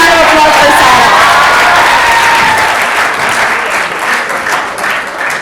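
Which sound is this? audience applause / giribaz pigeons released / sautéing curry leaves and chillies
audience applause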